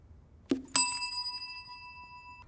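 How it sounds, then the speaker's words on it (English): A bell is struck once in a reaction test, giving a bright ringing ding that sustains and slowly fades, just after a brief thud; no voices. "As soon as I release the ball, Jamie is going to hit the bell"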